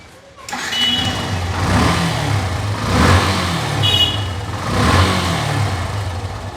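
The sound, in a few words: Yamaha FZS V1 motorcycle engine running after carbon cleaning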